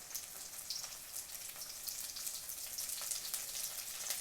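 Curry leaves sizzle in hot oil with frying onions for a crab masala gravy, a steady bright crackle and hiss with scattered pops, close and alone.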